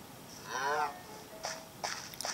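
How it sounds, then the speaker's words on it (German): A cow moos once in Minecraft in a long, low, wavering call, followed by a few short scattered clicks and thumps of game sounds. "Kuh. Das war doch eine Kuh."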